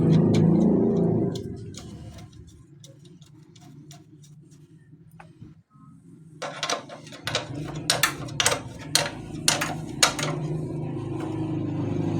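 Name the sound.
tightening a 12 mm nut on a bike brake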